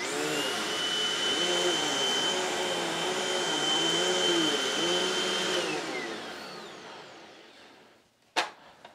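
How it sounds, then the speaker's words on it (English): An upright Hoover vacuum cleaner with no swivel neck runs loud and close, its steady motor whine wavering rhythmically as it is pushed back and forth, then spins down to a clunk at the end. "let's push the Hoover since it doesn't have a swivel neck for just a point of reference here"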